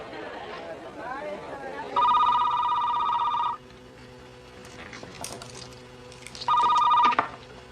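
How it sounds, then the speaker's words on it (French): A telephone bell rings in two loud bursts separated by a pause, with indistinct background chatter and movement between the rings in an indoor scene. "Vinny, je te téléphone."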